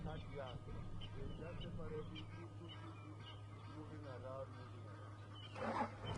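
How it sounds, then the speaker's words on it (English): Geese at a dam in the African bush call and honk in distant, repeated bursts over a low, steady rumble, growing briefly louder near the end, with a voice speaking quietly at times. "Geese are going crazy at the dam now."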